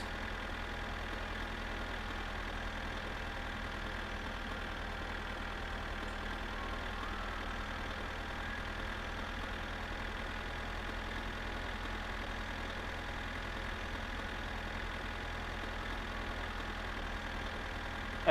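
A tractor engine runs steadily at a low idle-like rumble, even and continuous throughout with no talking.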